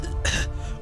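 A man gives a short, sharp cough lasting about a quarter second, close and clear against a quiet room background.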